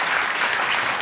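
A crowd applauding veterans at an event, a dense, steady wash of clapping filling the whole moment without voices on top.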